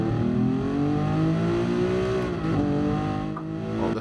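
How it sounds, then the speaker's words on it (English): A race car engine in the video game Gran Turismo Sport howls at high revs, its pitch climbing and dipping as it shifts, loud and continuous throughout. "this car sounds unreal"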